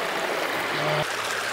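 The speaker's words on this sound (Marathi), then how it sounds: "निसर्गाच्या हृदयातून झरत असलेला एक शुद्ध स्वच्छ झरा" Water from a pure natural spring in Gothan, Goa, trickling and flowing steadily as a soft continuous stream, with a brief low hum partway through.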